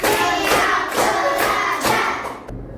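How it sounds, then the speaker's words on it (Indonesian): A group of children and teacher clap hands together in counted bursts, loud and close, about five rhythmic pulses spaced roughly half a second apart before cutting off. "Tepuk 1, tepuk 2, tepuk 3, tepuk 4, tepuk 5."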